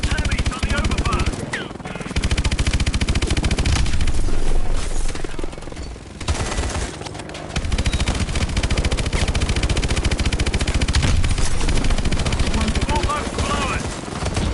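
Dense automatic gunfire from Call of Duty: Advanced Warfare rattles continuously and loudly through most of the stretch, with brief lulls, mixed with heavy combat noise and game voices under the shooting.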